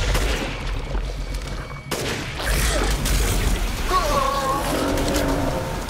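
Rifle gunfire in the Resident Evil Village horror game, with loud blasts and booming reports during a fight with a huge mutated creature, followed by growling monster sounds and rumbling game noise.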